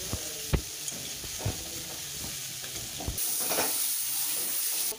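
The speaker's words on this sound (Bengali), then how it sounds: "মশলা ভাজা হয়ে গেছে, চালিয়ে দাও" Spices with salt, turmeric and garlic fry in a pan for a fish curry with tomato and eggplant, a steady close sizzle with occasional stirring knocks, then a louder, brighter hiss rising in the last couple of seconds; no talking.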